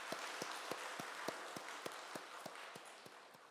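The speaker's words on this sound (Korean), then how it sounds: "우리 찬양팀을 위해서도 박수 한번 해주실까요?" A church congregation claps for the worship team in a steady, even rhythm, each hand clap crisp and evenly spaced, fairly faint in a large room.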